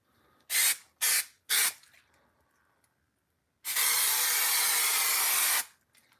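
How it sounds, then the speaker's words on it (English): An aerosol spray can sprays onto felt, first three short, sharp bursts of hiss in quick succession, then after a pause one long, steady spray lasting about two seconds, close and clear. "I like to spray the felt because that way the pan isn't all sticky"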